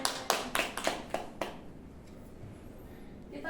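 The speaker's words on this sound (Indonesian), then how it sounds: "Tepuk tangan untuk mereka." Students in a classroom clap for classmates, about half a dozen sharp claps in the first second and a half, then a quiet room with faint background noise.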